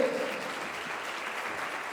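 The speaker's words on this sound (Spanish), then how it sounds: "Por favor, démosles un fuerte aplauso a nuestros expositores de esta noche." Audience at an international medical symposium gives a sustained round of applause for the evening's speakers, a soft, even patter heard at a distance.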